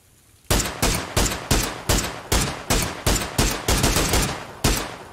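Rapid gunfire in the battle royale game PUBG, about a dozen loud, sharp shots in quick succession after a brief quiet start, each with a decaying tail, with no talk.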